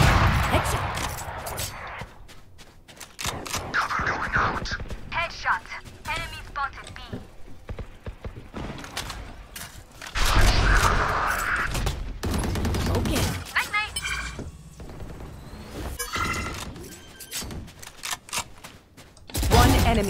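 Gunfire in Valorant, a competitive tactical shooter: rapid bursts and single shots of weapon fire with in-game effects, loud and dense, under occasional announcer voice lines.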